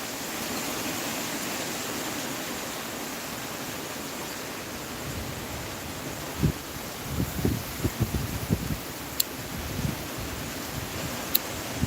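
Steady wind roars and buffets against the microphone throughout, with a few faint rustles and clicks partway through.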